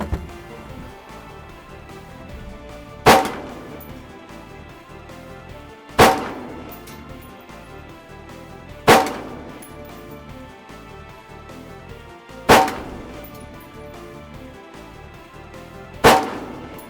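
Rifle shots crack on an army firing range, five sharp reports spaced about three seconds apart, each with a short ringing decay over a quiet outdoor background.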